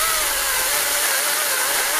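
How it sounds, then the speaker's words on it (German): Cordless chainsaw, an Einhell GE-LC 36/35 Li or Makita DUC 353, cutting through dry firewood stored over a year, a loud, steady, high-pitched electric whine that is close up and unbroken. "Das Holz, was ich hier jetzt säge, ist übrigens etwas länger gelagert."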